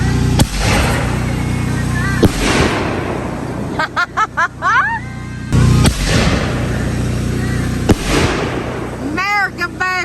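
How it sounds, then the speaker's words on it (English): Fireworks go off on rural Alabama land: loud cracking bangs with echoing tails, bursts of rising whistles and crackling pops, while people talk and shout between blasts. "We're about to go light off fireworks."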